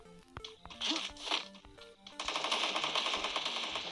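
Gunfire erupts in a Free Fire mobile game fight: scattered single shots and clicks at first, then a dense, continuous burst of rapid automatic fire, moderately quiet overall.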